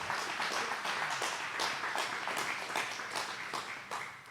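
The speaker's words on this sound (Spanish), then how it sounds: "Dale un aplauso al Señor" A church congregation applauds together, a steady wash of many hands clapping at moderate distance that fades slightly toward the end.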